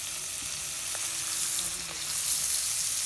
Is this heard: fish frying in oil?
yes